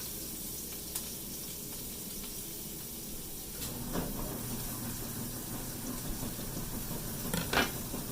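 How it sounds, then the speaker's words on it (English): Soft, steady sizzling of food frying in a pan, quiet and continuous, with a few faint clinks and stirring sounds. "Listen to that sizzle."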